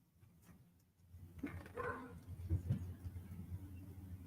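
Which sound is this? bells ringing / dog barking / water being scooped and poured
dog barking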